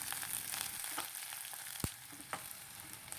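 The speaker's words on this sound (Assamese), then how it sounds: "পিঁয়াজটো অলপ ভাজি ল'ম।" Onion sizzles steadily in hot oil in a pan, with a few sharp clicks and pops breaking through the constant frying hiss.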